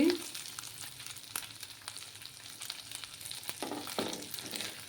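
Dry fish, potato and brinjal fry in a pan over a low flame, giving a steady, close sizzle with soft stirring scrapes that rise and fall throughout.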